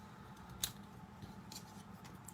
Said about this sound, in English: cut it into a little banner piece just for some added interest on the inside of the card